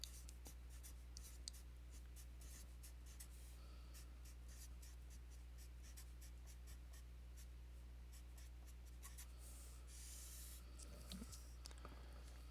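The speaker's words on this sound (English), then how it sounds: "I'll write it again." Marker or chalk writing on a board during a trigonometry lesson on cofunction identities, a steady run of short scratchy strokes and taps over about twelve seconds against a low constant hum, with no talking.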